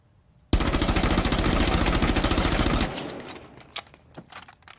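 Full-auto gunfire from Rook's weapon in Rainbow Six Siege, one continuous rapid burst of closely spaced shots lasting about two seconds, loud and up close, then trailing into scattered clicks and faint shots.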